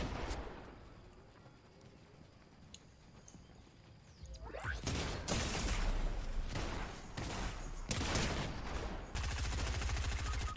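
Shotgun blasts in the video game Fortnite, a quiet lead-in followed by several loud, sharp bursts of gunfire in quick succession with crashing impacts.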